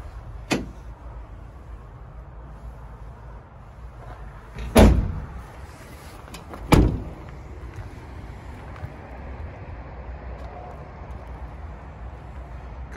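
The split rear doors of a 2016 Ford Transit Custom 2.2L van open with a few distinct thuds and clunks, one soft and two louder, against steady wind noise outdoors.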